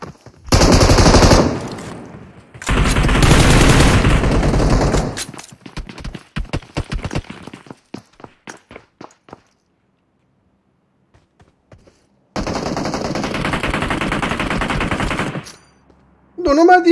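Loud bursts of automatic gunfire in the mobile battle game PUBG Mobile come in sustained volleys, separated by scattered single shots and a stretch of near silence before another long burst.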